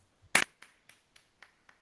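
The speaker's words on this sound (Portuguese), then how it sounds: "Aplausos." A few sparse, separate claps in an online meeting, one sharp loud clap followed by five fainter, evenly spaced ones that fade out, heard close and alone against silence.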